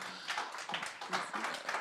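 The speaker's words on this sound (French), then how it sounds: "On peut applaudir Sandrine Roudot pour" Faint, somewhat distant applause from a conference audience after a talk at a winter festival, with scattered hand claps rising and falling in loose waves.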